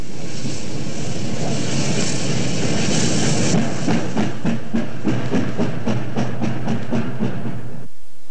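A Pacific steam locomotive backs in at the Jersey City terminal, a loud rumbling chuff with regular rhythmic beats growing steadier, then cutting off abruptly at the end.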